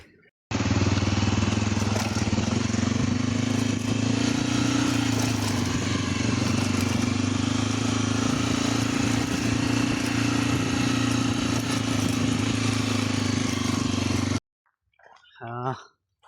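A motorcycle engine runs close by on a hill road near a tea estate, a steady loud rumbling drone that holds for about fourteen seconds and then cuts off, followed by a brief voice.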